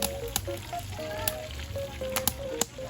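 Marinated pork steak sizzling in a hot pan with crackling oil and sharp spits and pops, close by, no voices.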